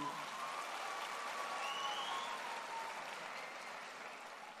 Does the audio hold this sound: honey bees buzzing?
no